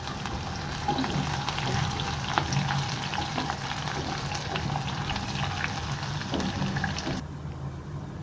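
A chopped medium onion and a small garlic sizzle in hot oil in a pan, a steady dense crackling hiss that runs evenly, then softens sharply near the end.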